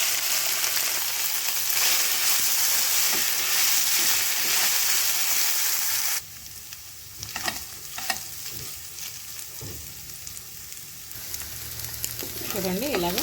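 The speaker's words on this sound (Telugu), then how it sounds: "అల్లం వెల్లుల్లి పేస్ట్ పచ్చివాసన పోయేంత వరకు ఫ్రై చేసేసుకోవాలి." Ginger garlic paste sizzling and frying in a pan for a soya chunk pickle, a loud steady hiss that drops off midway, followed by softer sizzling with scraping stirs and clinks of a spatula.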